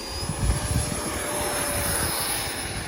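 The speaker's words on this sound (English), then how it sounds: "I'm gonna go ahead and take off with flaps on this one." A Flex Innovations F100d RC model jet takes off from a runway with flaps down. It gives a steady, moderately loud engine whine with a thin high tone, rushing evenly past with no voices.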